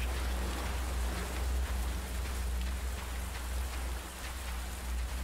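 Steady rain falls in the survival game Under A New Sun, a dense continuous patter with a low rumble underneath, moderately loud and unbroken, with no speech.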